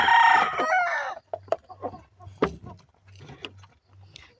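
Backyard chickens, about 45 days old, crow loudly for roughly the first second, followed by a scattering of close, short clucks and soft calls over a faint low hum.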